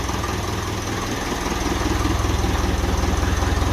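A 1955 Ferguson TEF 20 diesel tractor engine runs close by inside a shed, a steady low throbbing idle that grows slightly louder and more rhythmic partway through.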